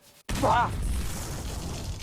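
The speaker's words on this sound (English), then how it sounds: "added a bit of a sort of explosion, like ground explosion to it" A ground explosion effect for a Lego Doctor Who animation bursts in suddenly as a loud, close boom, then lingers as a sustained rumbling roar that slowly settles without fully fading.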